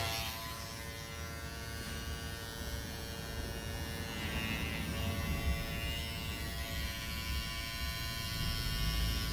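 Electric hair clippers buzz steadily and close up as someone fades their own hair along the hairline, a continuous loud motor drone with slight shifts in pitch as the blade moves, no talking.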